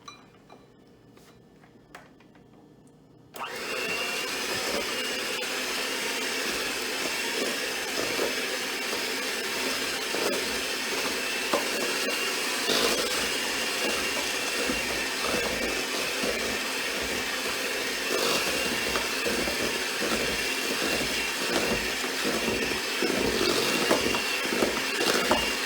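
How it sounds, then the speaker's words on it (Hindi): An electric hand mixer creams chocolate chip cookie dough, switching on after a few quiet seconds and then whirring steadily and loudly with a bright, noisy drone. "मेरे पास यहाँ एक स्टैंड हैंड मिक्सर है।"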